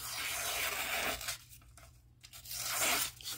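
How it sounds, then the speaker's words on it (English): Paper being sliced by a Benchmade 940 Osborne knife blade with a rasping tear, two passes separated by a brief quiet gap, close up. "cuts paper"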